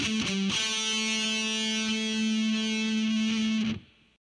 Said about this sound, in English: Now sped up with palm muting.